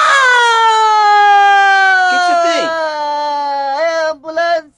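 A human voice imitating an ambulance siren, a loud wailing tone sliding slowly downward, then ending in a few short broken whoops.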